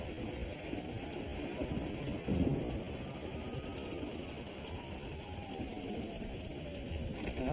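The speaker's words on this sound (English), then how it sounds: "I'm going inside until the rain stops." Outdoor rain falls in a steady, dense hiss with a low rumbling undertone, continuous and fairly close, with no voices over it.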